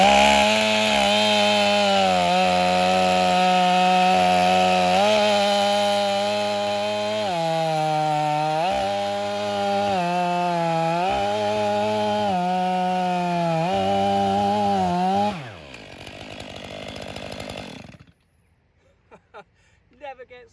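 A STIHL MS 500i chainsaw running loud and close, its engine holding steady high revs with several throttle dips and pulls before it cuts off and falls quiet near the end.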